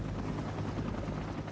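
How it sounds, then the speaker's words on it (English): A rescue helicopter ferrying rescuers to an avalanche site, its rotor and engine producing a steady, loud, continuous roar with a rhythmic chop, near and unbroken throughout. "Additional rescuers were carefully brought in by helicopter 3 at a time."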